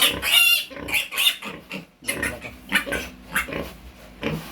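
Piglet on a small backyard farm squealing loudly and repeatedly while stuck and unable to get out, shrill cries in uneven bursts with brief pauses, close by.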